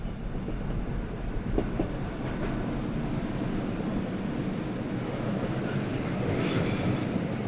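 A narrow-gauge train runs from Chur to Arosa through the mountains: a steady, close rumble of wheels on rails with faint squeals, holding level throughout with no voices.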